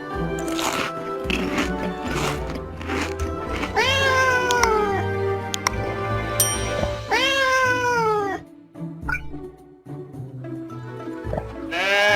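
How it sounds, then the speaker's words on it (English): A cat meows loudly several times, drawn-out rising and falling cries over a low musical background, with pauses between calls. "A cat. A cat."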